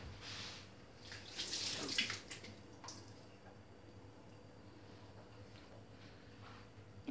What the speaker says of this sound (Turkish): ben hemen malzemelerimi yapmak için ellerimi yıkayıp geliyorum